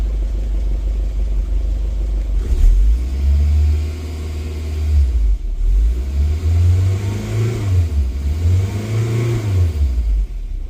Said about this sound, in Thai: เดี๋ยวลองเล่นเครื่องดูว่ามันจะตัดไหม